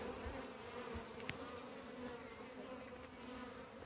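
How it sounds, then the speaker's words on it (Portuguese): Honey bees of the Italian breed buzzing around a honey harvest, a steady close insect drone with a few louder passes, no voices. "Tô tirando aqui essas abelhas, que elas vêm do mato"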